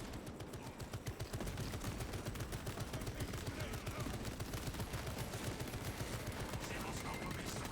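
Tarantula turrets in Space Marine 2 firing continuously, a dense, loud stream of rapid automatic gunfire with a steady pounding rhythm from start to finish, with no pauses.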